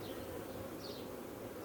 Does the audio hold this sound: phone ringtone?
no